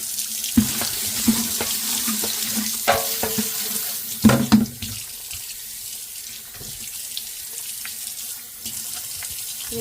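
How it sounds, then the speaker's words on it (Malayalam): Hands are washed under a running kitchen tap: steady water flow with splashes and a few louder clatters near the sink. "ഇത് നമുക്ക് ലാസ്റ്റ് നമ്മുടെ കൈ കഴുകാം"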